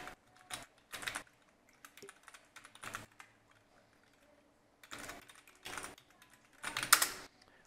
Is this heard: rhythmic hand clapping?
no